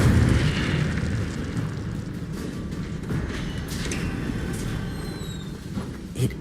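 Incendio, a fire spell in the Hogwarts Legacy video game, sends out a steady roaring rush of flame that holds at an even level for several seconds before a small flare at the end.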